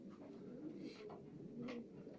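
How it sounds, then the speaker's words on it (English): Racing pigeons coo softly in a loft, a few low throaty calls rising over steady background noise, fairly close but quiet. "There's plenty of pigeons here that have bred winners."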